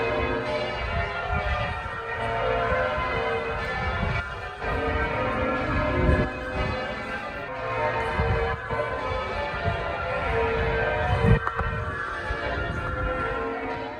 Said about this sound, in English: where the Minster bells were in full peal